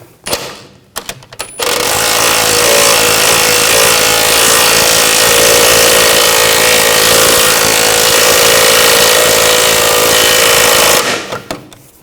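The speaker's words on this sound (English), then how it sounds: "Then we're going to torque this to 92 foot-pounds. Tighten this bolt down." A tool fastens a suspension bolt on a 2000-2006 BMW X5, giving a loud, sustained mechanical rattle that runs nearly ten seconds. Brief clicks come before it and it tapers off at the end.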